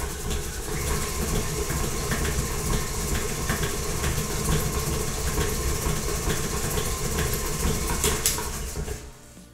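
An electric mixer creams butter and sugar for pecan pie sugar cookie dough, a steady loud motor whir with rattling and clattering that runs unbroken for about nine seconds and then stops.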